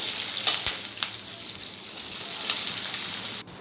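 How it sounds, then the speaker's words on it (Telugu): Tempering seeds, curry leaves and onions fry in oil for a jaggery bitter gourd stir-fry, making a steady, close sizzling hiss with a few faint pops and a clink, continuous and unbroken by voices. "పోపు గింజలు వేసుకొని కరివేపాకు ఉల్లిపాయలు అన్నీ వేసేసుకొని వేయించుకుంది."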